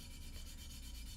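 Back of a reed sanded on a reed machine, a faint, steady rhythmic rubbing and scraping with regular strokes, heard alone at low level.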